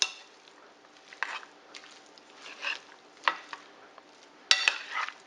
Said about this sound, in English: We're just going to stir it in there very well.